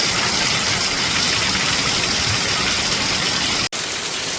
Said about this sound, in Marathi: पाऊस कसा पडतोय आमच्या वरच्या पन्हाळ्यामधनं पाणी पडतं